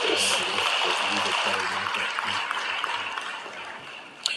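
A political audience applauds in a steady broadband wash as a speaker keeps talking over it, the clapping fading slightly toward the end.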